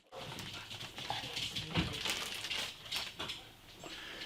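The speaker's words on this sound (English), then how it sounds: "Probably heard my dog in the background, who is featured in a couple of these videos." A dog barks in the background of a room during the unboxing of a W5 INSE cordless wet-dry vacuum, with short sharp bursts scattered across the clip over faint household noise.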